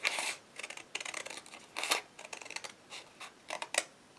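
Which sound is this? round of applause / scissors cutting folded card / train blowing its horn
scissors cutting folded card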